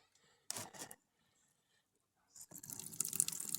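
Water poured from a jug through a long-necked funnel into a pop-up camper's tank, heard as short gurgling splashes, then a pause, then a steady, faint trickling pour.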